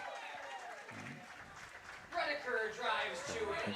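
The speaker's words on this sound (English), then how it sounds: "sounds like a loud and boisterous crowd for the Waupun Legion team tonight" Crowd at an evening American Legion baseball game in Waupun cheering and clapping after a two-run single, swelling louder partway through, heard at moderate distance under a commentator's voice.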